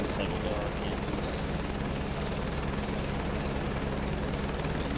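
Steady helicopter engine and rotor drone from Microsoft Flight Simulator 2024 as the RPMs settle before takeoff, a continuous loud broadband whine with no pauses for the full stretch.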